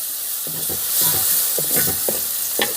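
Chopped tomato hitting hot oil with fried chili for a Kerala fish curry, giving a steady sizzle and stirring scrapes in short bursts, close and fairly loud.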